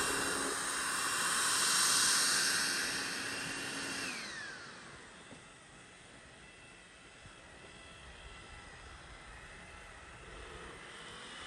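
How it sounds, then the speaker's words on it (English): An Optimax ionvac robot vacuum cleaner starts up with a rising whine, then settles into a quieter, steady whirring hiss as it moves around a room. "And it comes right off, kicks on, scans the room and starts vacuuming."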